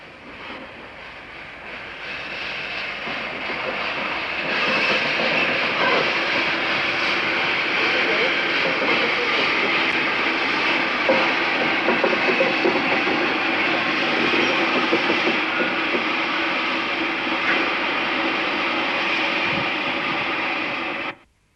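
A USA tank steam locomotive on the Bluebell Railway working a heavy train, a loud, steady roar of exhaust and motion that swells in, holds close for a long stretch, then cuts off abruptly.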